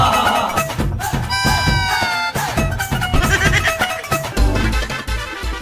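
Goat bleating in a playful outdoor scene, with short repeated cries rising over a busy, noisy background.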